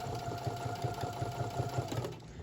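A sewing machine back stitches along the fabric edge of a bookmark pencil holder, its needle thumping in a fast, even rhythm under a steady motor whine, close and alone.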